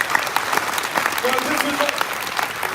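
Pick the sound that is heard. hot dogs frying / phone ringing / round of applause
round of applause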